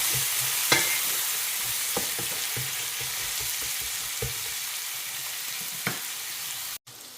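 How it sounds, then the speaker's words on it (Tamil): Onions sizzle steadily as they sauté in a pan, a constant frying hiss broken by occasional soft scrapes and knocks of a stirring spoon, close and alone. "இதெல்லாம் வதக்கிக்கலாம்."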